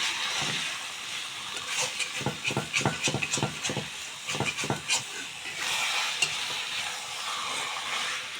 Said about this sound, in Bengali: কাঠের জালে দেশি চিকেন রান্না করছি।